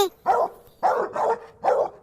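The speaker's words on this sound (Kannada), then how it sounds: "ಯಾಕೆ ಹಿಂಗ್ ಬೊಗಳ್ತಾ ಇದಾವೆ ನನ್ನ ಮಗನ ನಾಯಿಗಳು?" Four loud dog barks in an uneven rhythm from a cartoon village scene, close by and with no talking.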